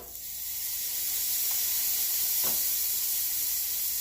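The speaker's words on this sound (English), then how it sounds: "A good sizzle." Rib eye steak sizzling on a Philips smokeless indoor grill, a steady close hiss that holds at an even level throughout, with no talking.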